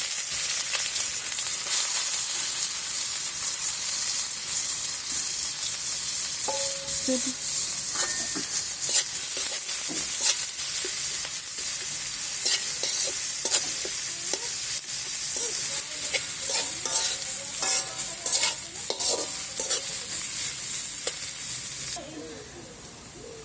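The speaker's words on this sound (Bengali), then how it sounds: "আমি এখন চিংড়ি মাছ রান্তাছি।" Prawns frying in a pan as ginger-garlic paste and cumin go in, with a steady, close sizzle running throughout and repeated scraping stirs, the sizzle easing off near the end.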